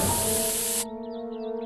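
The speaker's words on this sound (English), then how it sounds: "I will pepper spray you back to the Stone Age." Pepper spray discharged in South Park: The Stick of Truth, a loud continuous hissing spray burst lasting under a second that cuts off abruptly, leaving quiet background game music.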